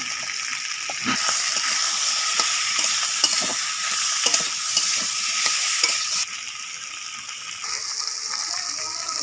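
Prawn and taro curry sizzles loudly in a pan after turmeric is added, with continuous frying hiss and repeated scraping, stirring strokes close by; the sizzle drops in level partway through.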